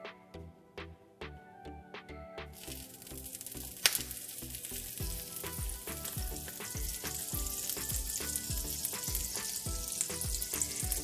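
Butter melting in a hot pan for gluten-free pancakes breaks into a steady, hissing sizzle after a quiet start, running continuously over a regular ticking beat in the background.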